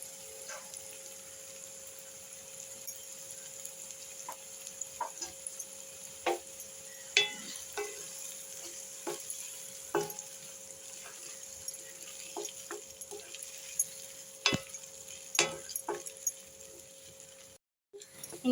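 Beaten eggs are broken up and stir-fried in a pan for muttai podimas, with a faint steady sizzle under a constant hum and scattered light taps and scrapes of a spatula against the pan.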